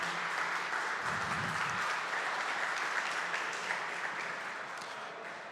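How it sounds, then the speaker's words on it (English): A round of applause from the audience at a San Antonio innovation forum on cybersecurity, steady and moderately distant, tapering off gradually. "And can I get a round of applause for this amazing team?"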